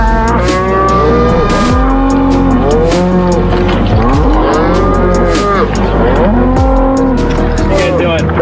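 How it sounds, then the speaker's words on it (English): A herd of cows at the Painted Hills moos repeatedly, with several long overlapping calls, some near and loud, some farther off, and people talk briefly among them. "we were welcomed by a herd of singing cows"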